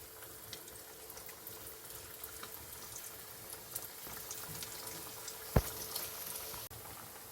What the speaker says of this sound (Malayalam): നമ്മൾ പരത്തി വെച്ചിരിക്കുന്ന വട ഓരോന്നോരോന്നായിട്ട് ചൂടായ എണ്ണയിലേക്ക് ഇട്ട് കൊടുക്കാം